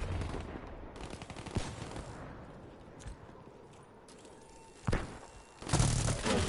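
Gunfire in the video game Black Ops 3 comes as bursts of rapid shots with sharper single reports, heard in an online match at moderate loudness with a fuller burst near the end.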